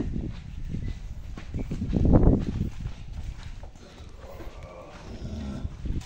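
Large white PO (Ongole crossbred) cattle shift around in a pen, hooves shuffling on the ground, with one louder low snort or bellow partway through.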